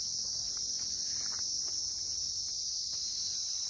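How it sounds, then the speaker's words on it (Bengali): Crickets in a pine forest near Lepchajagat keep up a loud, unbroken high-pitched trill, with faint rustles and distant sounds beneath it. "ঝিঝি পোকার আওয়াজ"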